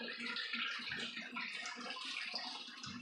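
A pump moves dirty water into a bucket filter with a steady, soft splashing and trickling, continuous and fairly quiet throughout.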